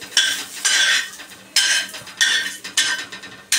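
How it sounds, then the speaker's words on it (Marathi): Grated coconut is dry-roasted in a pan after fried onions, with a spatula scraping the metal in about six loud, close bursts of rasping strokes separated by short pauses, and no voices. "आता हे जरा का खोबरं भाजून घ्यायचं आहे"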